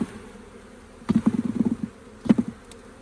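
Honeybees at an open hive during frame handling give a steady low buzz, swelling into several close bursts of louder droning partway through, with no talking.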